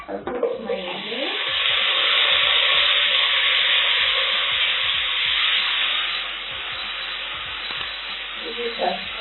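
Beef is dropped into a pot of hot oil for pilau and sets off a loud rising sizzle that slowly settles, with a voice briefly heard at the start and end.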